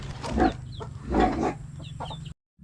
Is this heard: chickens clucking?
yes